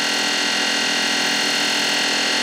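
Tormach 8L lathe with its spindle spun up to 2,500 RPM, a loud, steady whine with a dense buzzing hum that stays constant with no pauses or talk.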